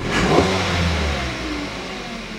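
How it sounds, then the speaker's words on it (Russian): A 2012 Hyundai Solaris engine revs up as the gas pedal is pressed after throttle cleaning, rising quickly from idle and then easing back, loud and close with no talking. "Пробую педальку газа."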